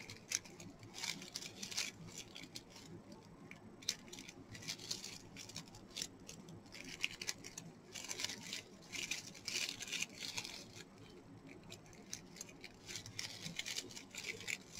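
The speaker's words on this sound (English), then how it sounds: "I think we're just going to have to just cut this top part off." Scissors snip through the bunched top of a blue and silver tinsel fringe on a Christmas wreath, giving quiet, repeated crinkly cuts and rustles close by.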